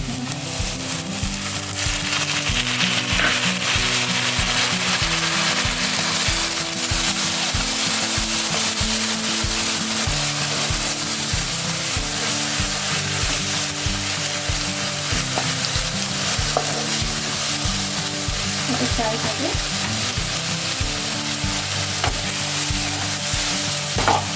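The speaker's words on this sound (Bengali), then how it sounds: "পোস্ত আর কাঁচা লঙ্কা 4টে যেটা বেটে রেখেছিলাম সেই পেস্টটা দিলাম। সামান্য জল দিয়ে দেবো।" A paste of poppy seeds and green chillies cooks with a little water in a pan, a loud, constant sizzle with rhythmic scraping and stirring throughout.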